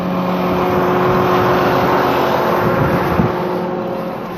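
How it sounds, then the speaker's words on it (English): A farm tractor engine runs steadily during corn harvest, a loud continuous drone with a low hum, heard close and alone without talk. "Alright, I'm hopping the tractor here."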